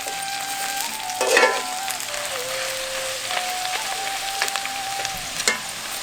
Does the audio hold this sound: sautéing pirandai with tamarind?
yes